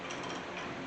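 A ratchet and socket turning the spindle nut on a 1981 Chevy C10 pickup, a steady fast clicking whir, close and continuous for under a second.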